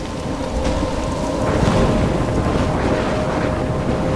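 Heavy rain pours steadily in a thunderstorm from the video game Life Is Strange, with a continuous dense roar of rainfall and low rumbling thunder swelling underneath, loud and unbroken throughout with no voices.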